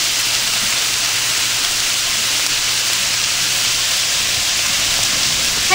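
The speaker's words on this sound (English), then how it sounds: "So I'm going to get my meat browned up here" Ground meat browns in a skillet for lasagna with a loud, constant sizzling hiss that stays even throughout, with no talking.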